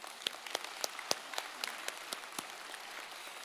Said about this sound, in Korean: 우리 한 번 더 박수하겠습니다